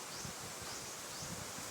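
A breezy midday spot under hot sun, a faint soft rustle of wind through leaves, a steady hiss with gentle low gusts, quiet and continuous without talk.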